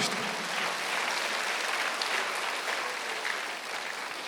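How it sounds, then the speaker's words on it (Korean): A church congregation applauds during a Sunday worship service, dense, sustained clapping filling the room at an even level with no voices over it. "박수 하나 더 해주세요."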